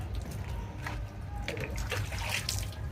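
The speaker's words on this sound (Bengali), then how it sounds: "দেখো, তা মাথাটায় জল দিয়ে দিই" Water splashes and pours over a golden retriever's head during a hot-weather bath, a steady close trickle and spatter with faint bumps and movement, no talking.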